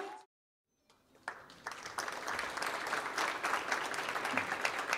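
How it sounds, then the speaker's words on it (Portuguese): Audience applause at a press awards ceremony in Japan, rising from silence into a steady, moderately distant round of clapping that continues to the end. "Para o aplauso de vocês"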